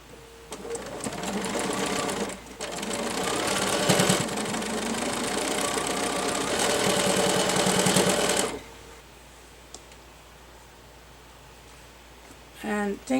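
A sewing machine fitted with a walking foot stitches through a bulky woven-block fidget quilt, running steadily and loudly for about eight seconds with a brief pause early on, then stopping to quiet room tone and a short clatter at the end.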